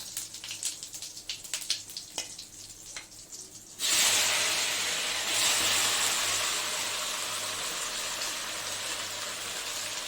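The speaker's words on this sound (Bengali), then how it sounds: "জিরা তেজপাতা শুকনো লঙ্কা ফোড়ন দিয়ে দিচ্ছি" Light crackling and tapping at first, then a sudden burst of loud hissing sizzle as cumin, bay leaf and dried chilli hit hot oil, continuing steadily up close.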